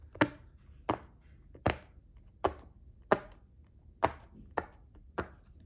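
Sharp popping taps repeat at a steady pace, about eight crisp pops of a silicone pop-it fidget toy, close up with quiet gaps between them.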